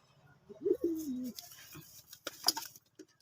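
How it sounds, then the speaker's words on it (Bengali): Pigeon newly bought from a market, cooing close by with a low throaty burst followed by softer murmurs and light rustles in a quiet space. "এই পায়রাটা কালকে ধরেছে।"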